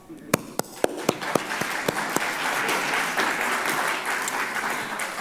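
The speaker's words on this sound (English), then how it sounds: "I think we all deserved a round of applause." Audience applause breaks out at a science-outreach event on ocean and water restoration, starting with a few scattered claps and swelling into sustained clapping from a crowd, fairly close and continuous.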